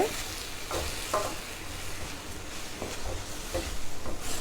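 Masala oats being stirred and fried in a pan with onion, tomato, capsicum and green chilli, giving a steady low sizzle with intermittent scraping stir strokes, close and moderately quiet.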